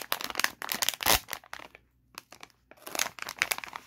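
A small trading card booster pack is torn and opened by hand, giving close, loud bursts of foil crinkling and tearing with a brief quiet pause in the middle.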